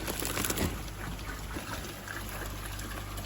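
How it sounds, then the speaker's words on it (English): Plastic bags of new fish from Japan are set floating on water in a quarantine tank, with soft trickles and gentle sloshing close by, quiet and brief. "we'll lift these out and get them floating on the water"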